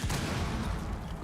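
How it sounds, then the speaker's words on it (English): Rapid bursts of gunfire from Rainbow Six Siege, dense and continuous with overlapping shots and a loud, sharp opening, forming a brief sustained volley. "they're kind of just trying to draw attention to themselves with all this gunfire"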